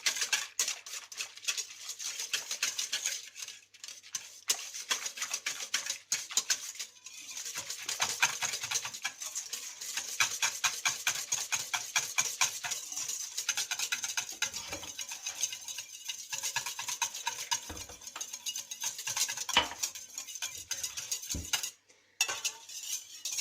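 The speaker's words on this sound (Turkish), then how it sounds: "Mayamı güzelce eritiyorum." Fresh yeast is stirred into lukewarm water with a spoon, giving a fast, steady run of light clinks and scrapes against the glass or bowl that goes on throughout, with brief pauses and no talking.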